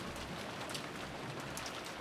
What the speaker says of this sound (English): God, you can just really see from how much the rain overlays this.